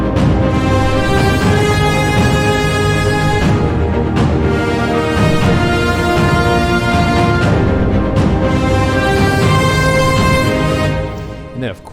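Acoustic trailer percussion from the Saga library layered into a full orchestral track, with sustained orchestral harmony and steady driving hits, loud and continuous for most of the passage before easing off at the very end.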